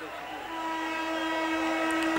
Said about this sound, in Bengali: সাবধানে থাকবেন, ট্রেন আসতেছে।